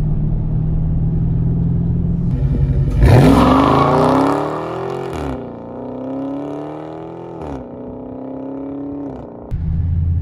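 Red 2020 Dodge Charger Scat Pack with a 6.4-litre 485 bhp engine spins its wheels under hard acceleration, a loud close roar rising in pitch with gear-change dips and a screeching tyre note, no talking.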